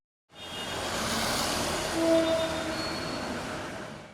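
Passenger train on an Indonesian railway line runs steadily past with broadband rumbling wheel and carriage noise, growing slightly louder midway, with a faint brief squeal, no voices.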